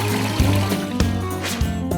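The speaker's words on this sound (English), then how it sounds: "Did you hear the gurgling sound the toilet made after it was flushed?" A flushed toilet gurgles as water drains and the cistern refills, with trickling and bubbling pulses up close and a low resonant hum beneath.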